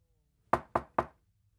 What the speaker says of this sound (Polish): Bartek i Basia zapukali do drzwi.